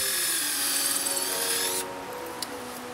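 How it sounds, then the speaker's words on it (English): A power drill bores holes into a discarded Christmas tree, a steady high whine that stops partway through, followed by a quieter rotating hum and a small click. "Then drill holes to let bugs in and help speed up decomposition."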